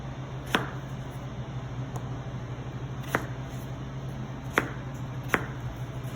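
A knife chops potatoes into small cubes on a cutting board, giving four or five sharp, separate thuds spaced a second or so apart over a steady low hum, with no talking.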